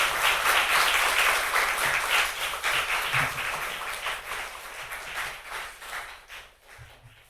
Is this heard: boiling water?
no